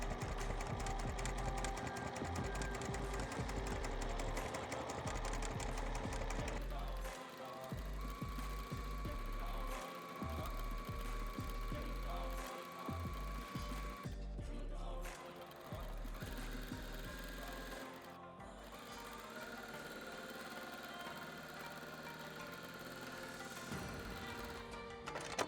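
Sewing machine quilting a meandering pattern over sashiko stitching, a steady rapid mechanical clatter running nearly nonstop with brief changes in pace, close and fairly quiet.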